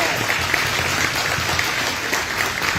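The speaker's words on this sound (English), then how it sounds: "So we just get a round of applause." A community club audience applauds in a steady, dense wash of clapping that holds evenly throughout, loud and close, with no talk standing out.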